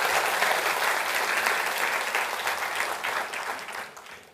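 Studio audience in a televised Indonesian talk show applauds steadily, a dense wash of clapping that holds loud and slowly tapers toward the end.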